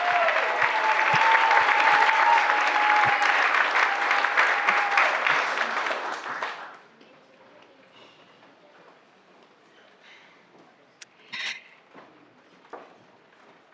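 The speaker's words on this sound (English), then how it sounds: "Could we please have one more round of applause for these amazing humans?" An audience at an arts awards ceremony claps in a dense, loud burst for about six seconds, then it fades quickly into near silence with a few scattered faint sounds.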